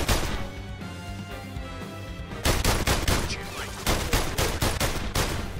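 Gunfire in PlayStation VR Worlds, starting as a steady busy game backdrop before a rapid, loud string of sharp shots breaks in and continues in quick bursts to the end.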